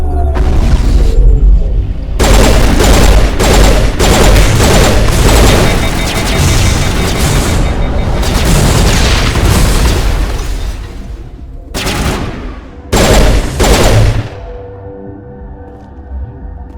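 Gunfire and explosions in the video game Mass Effect, long stretches of loud rapid automatic fire and booming blasts, broken by short pauses and closing with a few separate bursts, with speech faintly present in places.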